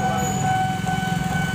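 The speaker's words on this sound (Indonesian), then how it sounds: "Yes, kereta masuk lagi." A train passes along a railway line in Indonesia, producing a steady rumbling roll with faint squealing wheel tones, sustained and fairly close for the whole moment.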